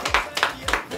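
Three sharp, close hand claps land at an even pace, with voices murmuring underneath.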